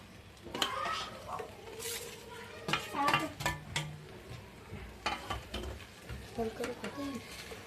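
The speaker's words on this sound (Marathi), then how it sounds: "तर व्यवस्थित दोन्हीना मिक्स करून द्यायचं आहे" Raw mango and jaggery murabba is stirred in a pan, giving intermittent scraping and clinking strokes of a spoon against the metal, with someone speaking over it.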